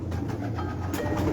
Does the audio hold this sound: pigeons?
yes